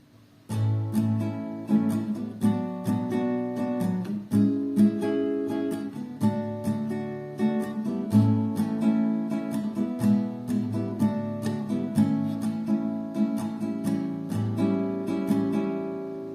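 An acoustic guitar strums a steady chord progression, bright full strums in an even rhythm, played alone without voices.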